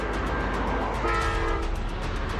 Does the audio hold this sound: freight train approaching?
yes